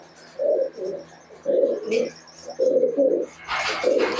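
Giribaz pigeons coo close by in repeated low, throaty bursts, three or four phrases separated by short pauses, with a brief rustle of wings or movement near the end.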